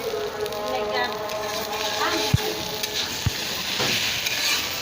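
Potatoes and egg frying in a pan, a steady sizzle with scraping stir strokes and a couple of sharp knocks of the utensil, while voices talk nearby.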